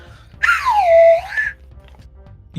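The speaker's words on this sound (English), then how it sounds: "Yes, and I have a side whistle." A single sliding whistle tone that swoops down, holds, then rises again, loud and close, followed by quiet.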